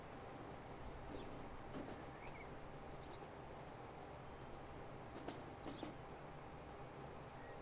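Train running on rails in the railway simulation game Transport Fever 2, a quiet continuous rumbling roll with faint rhythmic clicks of wheels over track joints, steady throughout with no voices.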